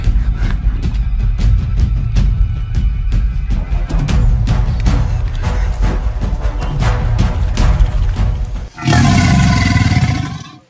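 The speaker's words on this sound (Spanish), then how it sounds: "Se escucha el sonido del cocodrilo." A giant crocodile in a video game lets out loud, sustained roars over a dense, rumbling game soundtrack, ending in a sudden burst of intense growling noise near the end.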